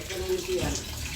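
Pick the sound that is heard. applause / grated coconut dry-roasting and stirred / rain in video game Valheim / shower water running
shower water running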